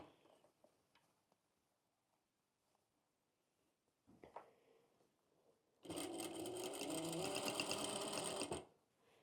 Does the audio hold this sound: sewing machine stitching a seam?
yes